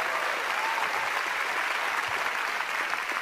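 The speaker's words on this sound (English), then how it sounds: "Let's give the Lord a big hand." A church congregation applauds in a steady, dense wash of clapping for about three seconds, loud and continuous with no pauses.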